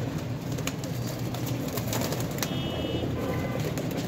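Pigeons coo softly among other bird calls outdoors, with occasional sharp flutters and wing claps from domestic flying pigeons over a steady background murmur.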